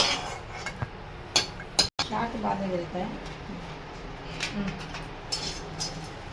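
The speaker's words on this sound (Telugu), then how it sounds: "ఇప్పుడు ఫ్రై అయిన మిర్చిని నేను సపరేట్గా ఒక గిన్నె తీసుకుని ఆ గిన్నెలోకి తీసేస్తున్నాను" Metal utensils clink against pots and a bowl as fried green chilies are moved into a separate bowl in a home kitchen. There are several sharp, close clinks and scrapes over low room noise, with a brief dropout partway through.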